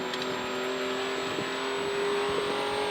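A rally car engine, four- or six-cylinder with a traditional manual gearbox, drones steadily on a gravel Safari Rally stage in Australia, a continuous heard-from-inside hum with faint bumps and no talk.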